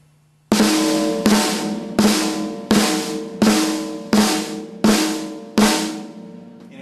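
Regular flams played on a snare drum, eight loud cracking strokes, each with a quick grace note just before the main hit, evenly spaced about a second apart with a ringing decay between them.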